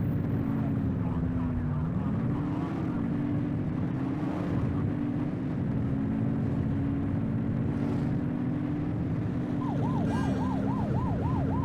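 Police siren wailing in the video game The Precinct, a steady rising-and-falling tone running under engine and traffic rumble throughout, with a faster warbling pattern near the end.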